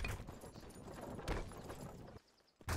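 Horse hooves clip-clop in the video game Myth Of Empires, a quiet continuous patter of hoofbeats with a couple of louder thumps near the end.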